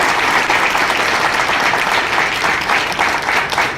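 An audience applauds steadily throughout an inauguration ceremony for an old-age home and recreation centre, a dense, continuous wash of many hands clapping at fairly close range, with no voices standing out.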